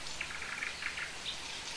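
Rain falls steadily on a bush in the wild, making a dense, soft hiss with faint bird chirps scattered through it, fairly quiet throughout and with no voices.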